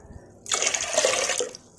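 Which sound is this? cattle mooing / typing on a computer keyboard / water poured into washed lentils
water poured into washed lentils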